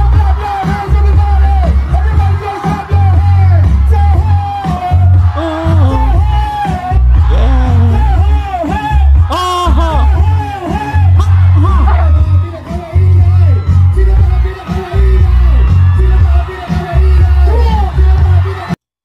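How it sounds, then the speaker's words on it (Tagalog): A campaign rally crowd cheering and yelling at a performance, a loud dense roar of many voices with whoops and shouts that goes on almost without a break, mixed with booming music and amplified vocals. "Grabe yung crowd reaction no. Napakatindi."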